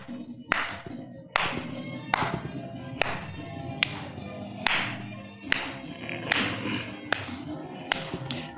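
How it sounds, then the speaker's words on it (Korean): An audience at a hospital health lecture claps along in a steady rhythm, about ten sharp, evenly spaced claps, close and moderately loud over a faint sung or spoken backdrop. "박수."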